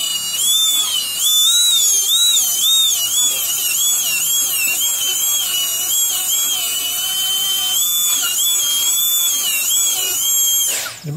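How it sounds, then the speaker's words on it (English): A depth burr on a dental drill cuts into a mandibular premolar during crown prep, giving a loud, close, high-pitched whine that wavers steadily in pitch for about eleven seconds before cutting off abruptly. "I'll change over to the depth burr"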